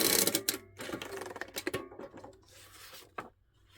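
Square holes punched one after another into old x-ray film with a hand punch mechanism, giving a run of close, sharp clicking and crunching snaps that are loud at the start and then thin out into scattered fainter clicks.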